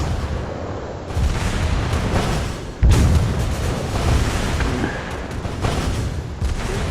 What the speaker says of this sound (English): We use our cannon to fire.